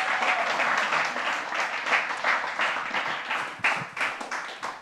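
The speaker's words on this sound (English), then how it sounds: "Round of applause." A comedy festival audience in Edinburgh claps and applauds steadily, a dense wash of hands that swells and dips slightly throughout.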